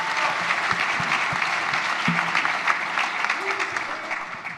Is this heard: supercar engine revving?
no